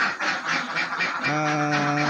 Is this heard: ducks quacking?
yes